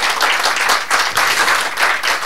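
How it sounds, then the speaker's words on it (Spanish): A crowd applauds steadily, dense clapping that swells in soft waves, fairly close and continuous with no speech. "Denle un aplauso al Señor."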